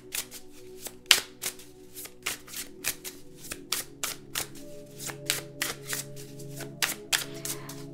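A deck of tarot cards being shuffled repeatedly, with quick riffling bursts in an uneven rhythm over a low, steady background hum.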